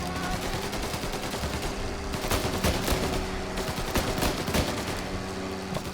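Sustained gunfire in the Mafia video game, rapid overlapping shots and bursts cracking continuously at close range over a dense, loud background for the whole stretch.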